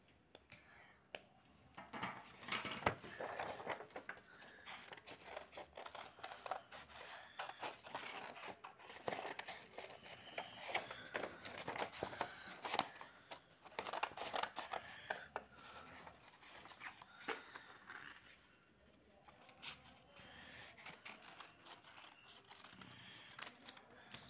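Scissors cutting out a drawn paper shape for a Pongal craft, a soft continuous rasping and snipping close by with irregular bursts and brief pauses, quiet throughout.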